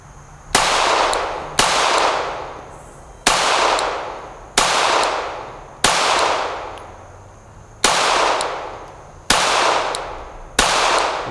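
Eight loud pistol shots ring out at a steady pace, each a sharp crack followed by a long echoing decay, fired at a target while checking the zero of a Gideon Optics Alpha red dot sight.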